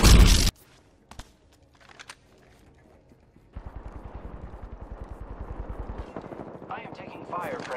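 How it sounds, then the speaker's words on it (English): Gunfire in the video game Apex Legends opens with a loud burst, followed by a few scattered shots and then a sustained rapid automatic volley of evenly spaced shots, with a voice talking faintly over the end. "I am taking fire, friends."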